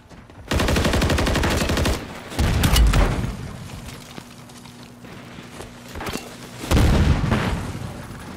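Gunfire in a video game: dense bursts of rapid automatic shots around the start, a second heavy burst soon after, then quieter scattered shots before another loud volley near the end, close and loud with no talk.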